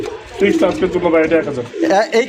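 A pair of pigeons, a male and a female, coo in soft, repeated rounds close by, with people talking at the same time.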